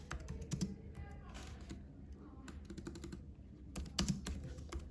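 Someone types on a computer keyboard in quick bursts of sharp key taps separated by short pauses, close and fairly quiet, with a faint hum underneath.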